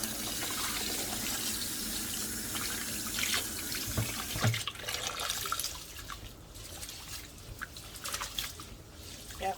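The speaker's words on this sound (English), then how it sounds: "This is the rice I'm washing to put in the pot for the rice and peas." Rice washed by hand in water at a kitchen sink, with continuous sloshing, splashing and dripping, close and fairly quiet, with irregular bursts of louder swishing throughout.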